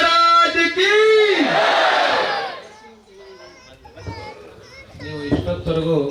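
A crowd at a religious procession for Swami Vishwavallabha Tirtha roars a jaikara victory chant, loud massed shouting that swells and then fades, followed by scattered nearby voices calling out again.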